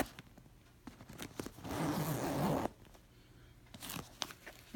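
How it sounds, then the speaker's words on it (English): A zipper is pulled on a Guess backpack purse, one long rasping zip lasting under a second, with soft handling rustles and small clicks before and after, close and fairly quiet. "I guess it has double zippers."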